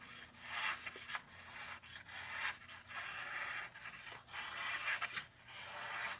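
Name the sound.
M390 steel Vosteed knife slicing textbook paper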